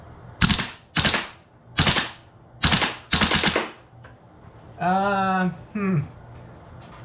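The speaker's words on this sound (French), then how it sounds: "c'est encore le XM-A77 sur rafale" A VFC XM177E2 airsoft rifle fires in burst mode: five sharp bursts in quick succession up close, then a short electronic beeping tone follows.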